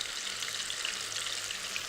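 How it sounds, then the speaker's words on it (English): Catfish fillets sizzle in hot frying oil, a steady dense crackle with fine popping spatters holding at an even level throughout, close and continuous with no voices. "You hear that sizzle? That's exactly what we want. We want that fish to hit the oil nice and hot."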